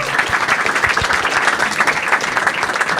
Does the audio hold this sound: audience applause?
yes